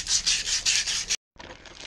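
Emery cloth, 80 grit, rubbed by hand over a rusted, pitted metal part of a Volvo Penta gimbal bearing assembly, giving close, rhythmic scrubbing strokes, a brief pause, then lighter rubbing.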